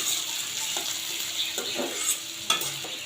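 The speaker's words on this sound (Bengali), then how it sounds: "আমি ঢাকনা নামিয়ে এখন ভালো করে আবার নেড়ে চেড়ে নিচ্ছি। এখন ঢাকনা খুলেই একটু ভাজা ভাজা করে নিব।" Onion stalks and potatoes fry in a pan while being stirred, with scraping and clicking strokes over a soft, steady sizzle and no talking.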